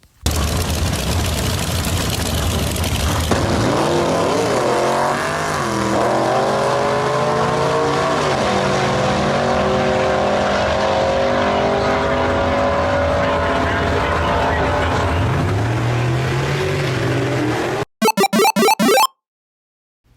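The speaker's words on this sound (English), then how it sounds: "In the far lane, in the 1948 Anglia, you got Christy Rogers 7707. And on the inside lane, in the 1951 Anglia, we've got Rambleon 63" A 1948 and a 1951 Ford Anglia drag race side by side, with loud engines roaring as they launch, rising in pitch through the gears over a crowd's noise, and then fading out.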